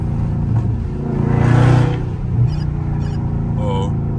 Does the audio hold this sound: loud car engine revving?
yes